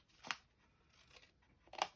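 Scissors snipping through card for a two-tone Christmas hinged lid gift box, two crisp distinct cuts separated by a soft rustle, close and quiet with no talking.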